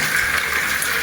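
A household faucet runs in a steady, full gush of water, close and loud, with no voices over the short burst.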